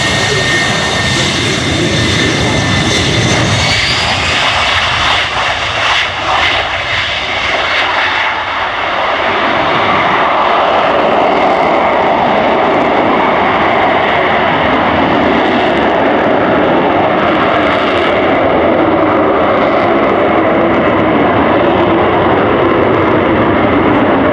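An F-35B Lightning II jet engine spools up for a short takeoff at an air show, a loud, continuous roar that shifts in pitch as the aircraft starts moving and then holds a sustained, close blast.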